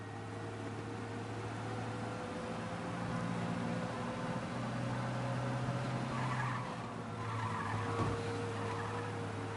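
In the Mafia video game, a car speeds away from police with tires skidding, a steady engine drone under drawn-out squeals that swell and fade across the clip, no voices.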